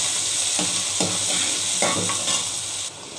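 Onion sizzles in hot oil with cumin, a steady close frying hiss broken by a few scraping stirs of a spoon against the pan, with no voices.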